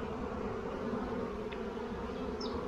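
Honeybees buzz steadily around an open hive during a spring inspection, a dense, continuous hum from many bees close by with no voices.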